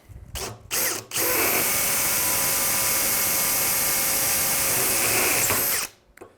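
A power drill whirs loud and steady for about five seconds after a couple of short bursts, grinding through the wall of a clamped metal back frame, then stops.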